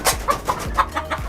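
A Japanese ornamental chicken at a breeding farm clucks in a quick, close, rhythmic series of short calls, about six in just over a second.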